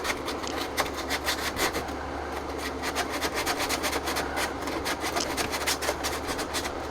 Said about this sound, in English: I'm just taking a sandpaper disc and I'm gonna rough up the surface back in there